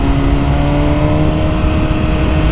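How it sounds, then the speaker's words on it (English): A 2022 BMW S1000R motorcycle fitted with a new aero header pulls hard under acceleration, its loud, close engine note holding a steady rising drone with no letup. "2022 BMW S1000R with a new aero header."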